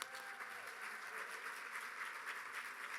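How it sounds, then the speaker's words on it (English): Audience applause at the Junior Achievement Business Hall of Fame event, a dense, even wash of many hands clapping from a large crowd, steady throughout. "Let's give Riley another round of applause."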